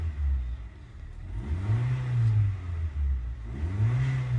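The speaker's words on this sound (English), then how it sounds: "So I've started the car again to test cylinder number 2." A misfiring, rough-running Honda Fit engine idles and revs up twice in a low, throbbing drone, surging and settling close by with no voices.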